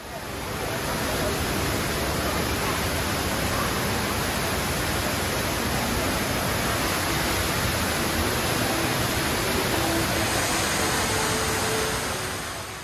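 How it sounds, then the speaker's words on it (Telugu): Kinetic Rain indoor waterfall at Jewel Changi Airport, water pouring from high above into a giant acrylic funnel, a dense unbroken roar of falling water at steady loudness, with no voices. "మీద నుంచి పడుతున్న వాటరు ఆ ఫన్నల్లో కలెక్ట్ అవుతుంది. చాలా పెద్ద ఫన్నల్ ఉంటుంది."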